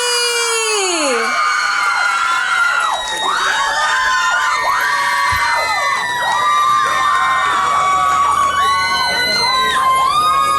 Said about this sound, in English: Let's give another round of applause for our contestant number 6